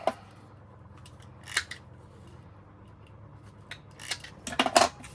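Scissors snip paper for a craft deck in a few short, close, crisp cuts: one at the start, one around a second and a half, and a quick cluster near the end, with quiet pauses between.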